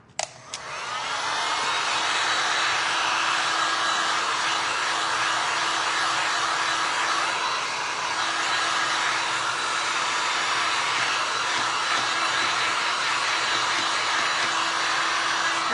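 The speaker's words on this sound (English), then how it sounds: "what I'm gonna do is take my heat gun. Let's dry this paint." Heat gun blowing a steady, loud airy whoosh with a faint whine as it dries paint on a glass and resin cotton boll artwork, running continuously and close after a brief click at the start.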